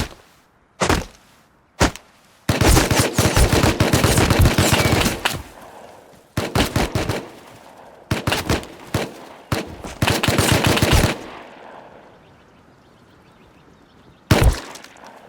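Loud bursts of rapid gunfire in the video game Rust, several sustained volleys and single sharp shots, separated by brief lulls, with a ringing tail near the end.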